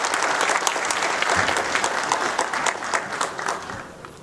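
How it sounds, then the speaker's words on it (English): Crowd applause welcoming Councilman Henry Davis at a school gathering, dense and steady clapping from a large audience that holds strong throughout and tapers slightly at the end. "So give him a warm round of applause"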